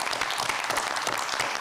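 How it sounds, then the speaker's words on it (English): An audience at the San Angelo 2025 mayoral debate claps in steady, sustained applause, a dense even patter of many hands throughout. "they deserve a big round of applause."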